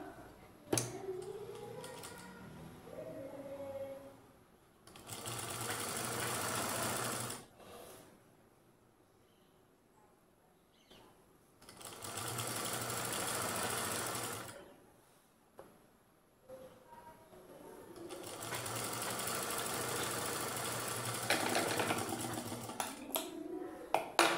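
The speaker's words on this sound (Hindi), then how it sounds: "बस इस तरह से 2 फोल्ड करके और इस पर गोल से सिलाई लगा लेंगे।" A sewing machine stitching a double-folded hem on a dhoti salwar cuff, running in three separate steady bursts of several seconds each, with quiet rustling and handling in between.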